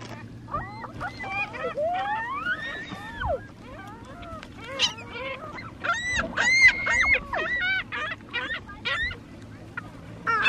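Seagulls call at the beach in a dense, overlapping chorus of squawks and laughing cries, close and loud throughout, with other gulls chattering behind.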